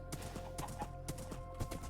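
Hooves of a ridden horse in the Minecraft video game clop in a fast, regular trot, several crisp hits at a steady pace, faint against a low background hum.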